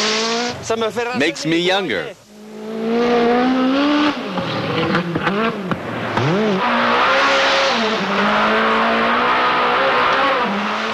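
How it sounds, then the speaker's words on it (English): A rally car slides through turns on a special stage, its engine revving hard and tires squealing in drawn-out pitch sweeps, loud and close, while someone talks briefly over the start. "The more the car slides, the more fun it is."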